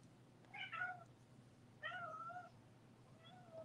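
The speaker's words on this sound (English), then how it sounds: "He's a black cat." A black cat meows three times, each cry clear and fairly close, separated by short pauses over a quiet indoor background.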